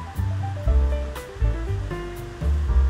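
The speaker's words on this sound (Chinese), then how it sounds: "来说一下这个森林里的美妙的声音， 有瀑布声。" A waterfall in a forest near Yuli, Hualien, Taiwan, gives a steady rushing roar of falling water with a few pulsing swells, heard close and continuous with no talk.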